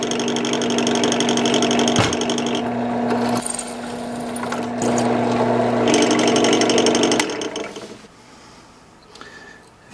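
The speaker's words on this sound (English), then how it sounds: "now I can just go straight to the drill and drill the holes through where I want them" A power drill bores holes through a metal mounting plate while fitting a Rotopax fuel and water can to a Royal Enfield Himalayan motorcycle, a loud steady whine that rises and shifts in pitch before tapering off near the end.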